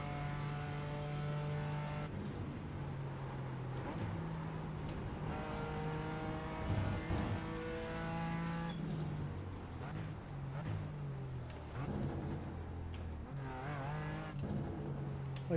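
A BMW M4 GT4 race car engine in a racing game at Suzuka revs hard through repeated upshifts and downshifts, its tone climbing and dropping in steps, with brief tyre noise as it brakes into corners.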